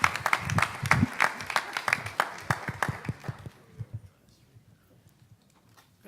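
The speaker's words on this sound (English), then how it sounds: "Let's give him a round of applause," Audience applause welcoming a commissioner to the stage at a justice reform conference, a few seconds of scattered clapping that thins out and fades to near quiet.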